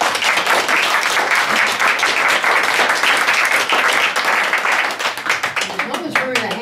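Audience applause at a 90th birthday party, a dense sustained clapping of many hands that stays loud throughout and thins slightly toward the end.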